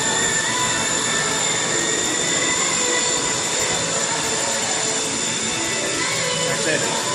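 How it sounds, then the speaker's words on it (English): A turbine pump runs at a water treatment facility, giving a steady, loud mechanical drone with a high whine that holds constant throughout, with no pauses or changes. "This is your turbine pump here"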